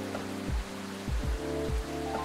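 Rain ambience in the video game Coffee Talk, a steady, fairly loud hiss of rainfall running throughout, with a few low tonal music notes and soft thuds layered over it and no talking.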